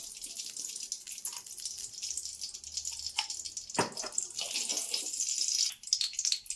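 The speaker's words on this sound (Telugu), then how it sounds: "ఇందులో మనం నెయ్యి వేసుకుందాం" Ghee pours into a kadai on a lit stove, about two spoonfuls, giving a faint, brief liquid trickle and light sizzle against a quiet kitchen background.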